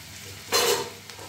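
Tomato masala for paneer butter masala cooking in a kadai: a short surge of sizzling and frying as it is stirred, rising sharply for a moment and then settling back to a low hiss.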